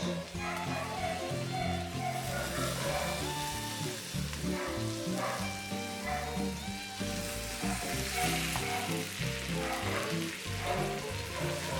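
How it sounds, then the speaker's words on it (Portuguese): Cooked potatoes seasoned with oregano frying and sizzling steadily in a pan while being stirred, a dense continuous crackle with busy clinks and scrapes throughout, no voices. "Mexo bem essas batatas para que o tempero venha penetrar bem."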